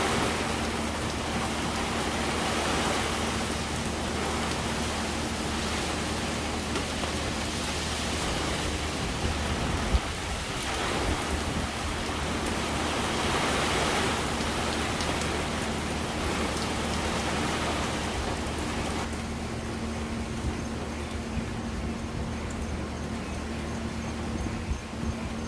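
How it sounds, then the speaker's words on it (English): Heavy hurricane rain pours steadily and densely for the whole stretch, a loud unbroken hiss of downpour with a faint low hum beneath and a slight drop in intensity near the end. "Just lots and lots of rain."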